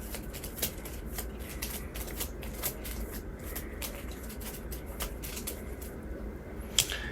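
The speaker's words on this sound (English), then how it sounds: "I should shuffle this" Cards being shuffled during a Marvel Champions tabletop card game, a continuous soft riffling patter running throughout at moderate closeness, with a sharper snap of the deck near the end.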